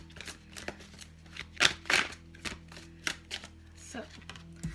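Tarot cards being shuffled and laid out for a reading: a series of soft slaps and brushing riffles spaced irregularly, close-up over a faint steady hum, with no one speaking.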